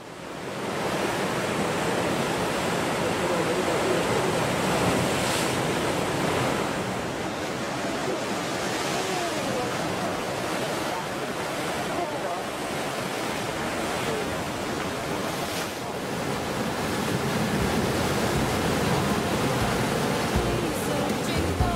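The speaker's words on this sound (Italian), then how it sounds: "la vista del mare con le sue onde che si stagliano sulle rocce" Sea waves break on rocks along the coast at La Spezia, a steady loud roar of surf with repeated surges over about twenty seconds, no voices.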